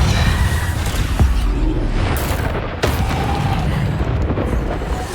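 A Bombarda explosion spell bursts in the Hogwarts Legacy video game, a heavy low boom with rumbling debris and crackling impacts amid ongoing combat effects, loud and close.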